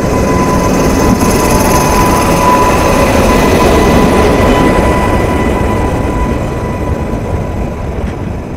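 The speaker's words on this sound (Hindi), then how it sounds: "भारतीय रेल" An Indian Railways train passes as a loud, continuous broadband roar with steady rumbling and faint high whine, sustained for several seconds before easing slightly toward the end.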